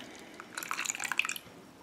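Grapefruit juice drips and trickles into a small plastic container in a kitchen: quiet, close, irregular patters and splashes over a second or so.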